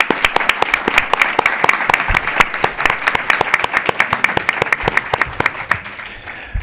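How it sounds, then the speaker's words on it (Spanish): A theatre audience at a charity talk event gives loud, close applause with many sharp individual claps standing out from the rolling mass, sustained evenly throughout. "pediría un aplauso para ellos porque nos lo han regalado"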